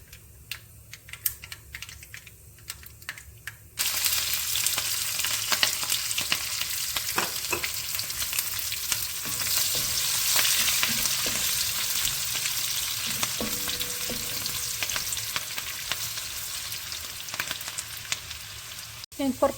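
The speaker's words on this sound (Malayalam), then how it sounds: "കടുക് പൊട്ടിയതിന് ശേഷം നമ്മളിനി അടുത്തത് ജിഞ്ചർ, ഗാർലിക്, പിന്നെ ഗ്രീൻ ചില്ലി, പിന്നെ ഡ്രൈ ചില്ലി, ഇത് നമ്മൾ ഒന്നിച്ച് ഒന്ന് വഴറ്റാൻ പോവാണ്" Ginger, garlic, green chilli and dry chilli sauté in hot oil after mustard seeds pop, for beef pickle. Quiet tapping comes first, then a loud, sustained crackling sizzle with sharp spattering pops throughout.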